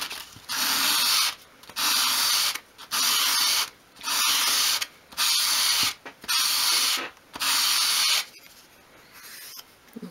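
A small wooden piece for a 1/12th scale meat safe is swept by hand across medium-grade sandpaper on a worktop at a 45-degree angle, giving seven loud, evenly spaced raspy strokes with short pauses between them, no voices.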